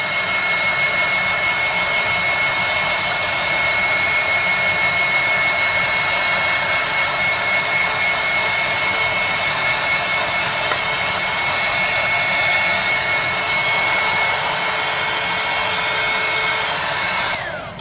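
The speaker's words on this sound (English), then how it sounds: "the first thing I'm going to do is actually heat up my cup" A heat gun blows steadily to warm a tumbler cup before glitter and resin are applied, a loud continuous rushing hiss with a faint high whine, running unbroken for the whole stretch and cutting off at the very end.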